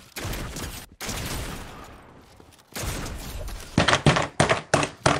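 Gunfire rings out during a Fortnite box fight, with bursts of loud, sharp shots and a rapid run of about six evenly spaced blasts near the end, set against dense game noise.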